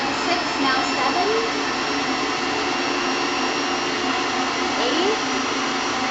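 An electric mixer at high speed whips a s'mores dip, giving a steady, loud, close motor whine that does not let up, with faint talk underneath.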